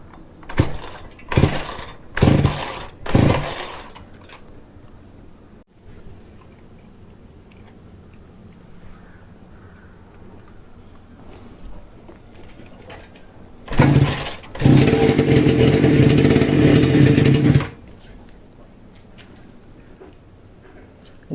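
A homemade kids' bike built as a Yamaha RX100 replica: a few sharp metallic clatters at the start, a long quiet stretch, then its small engine catches and runs loud and rough for about three seconds before cutting out.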